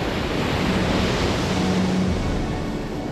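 Strong steady wind and crashing surf fill the coast at Cape Trafalgar on the Costa de la Luz, a continuous loud roar of waves and gusts without a break.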